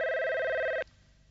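Telephone bell ringing in a Ninja Hattori cartoon, a loud steady electronic ring that cuts off abruptly partway through, leaving quiet room tone.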